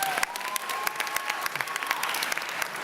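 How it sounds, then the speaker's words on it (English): An audience claps throughout the final round of a university venture competition, with steady, full applause and a few faint voices in the crowd. "Give a big round of applause to Luis Martinez."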